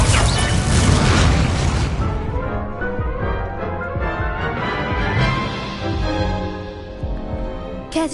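A Confringo blasting spell bursts in a video game, a loud booming explosion in the first two seconds followed by a long rumbling, crackling decay with scattered debris-like clatter.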